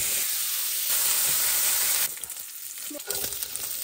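Bacon frying in a pan, a loud steady hiss that drops after a couple of seconds into a quieter crackling sizzle with a few scraping stirs.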